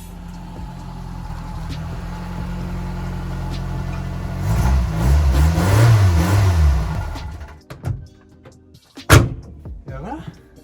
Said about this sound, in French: Là maintenant je vais aller chercher la voiture, je reviens tout de suite avec.